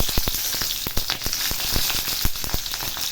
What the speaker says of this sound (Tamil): அதனால் எண்ணெயில் நல்லா பூண்டு ஃப்ரை பண்ணிக்கலாம்.